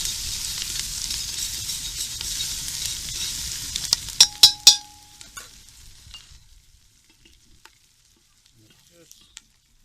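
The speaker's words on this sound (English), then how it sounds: "You'll notice the pot is extremely hot. This is just to get these onions a little bit brown for" Onions browning in an extremely hot cast-iron potjie pot give a loud, steady sizzle for about four seconds, then a few sharp metallic knocks before the sound fades to near silence.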